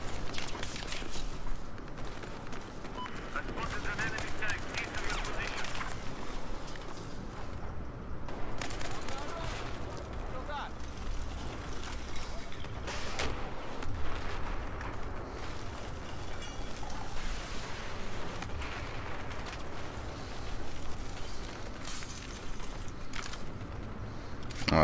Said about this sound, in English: Alright, we got guys shooting at us.